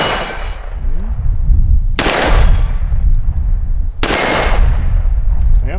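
A new 2020 Colt Python revolver fires three loud, close, sharp shots about two seconds apart, each followed by a ringing decay over steady outdoor noise.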